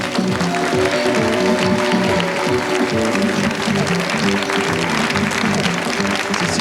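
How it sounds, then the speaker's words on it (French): A French television studio audience applauds at a 1986 game show, a steady, loud burst of clapping with a few voices mixed in. "Bravo, on applaudit elle."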